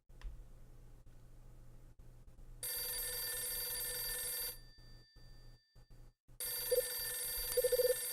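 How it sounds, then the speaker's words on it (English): A telephone rings in the video game Last Window: The Secret of Cape West, two long electronic ring bursts separated by a short quiet gap, loud and clear with no talking. "It's the phone."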